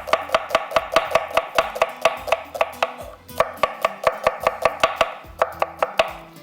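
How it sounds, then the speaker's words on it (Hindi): Knife chopping onions on a cutting board, a steady run of sharp, close, evenly paced taps with a brief pause midway before the rhythm resumes, no voices. "जब तक ऑयल गर्म हो रहा है इतनी देर में प्याज हम कटिंग करते हैं।"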